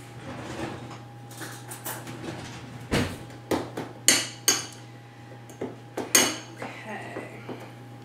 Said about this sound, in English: And we're going to add the rosemary. We're going to mix this up really good.